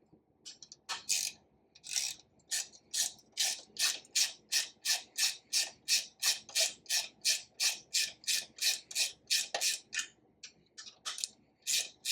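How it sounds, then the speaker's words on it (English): A ratchet loosens a 10 millimeter bolt, clicking in a steady run of sharp, close strokes, about two per second, each stroke a quick burst of pawl clicks with brief pauses between them. "there's a 10 millimeter bolt right here. We're gonna take this out."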